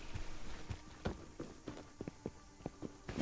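Footsteps in the survival video game Rust, a run of soft, irregular thuds at moderate distance with no other sound over them.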